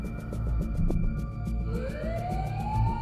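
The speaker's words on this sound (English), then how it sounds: "Ambulance arrived" An ambulance siren wails nearby, a steady tone with rising sweeps over loud, continuous low traffic rumble.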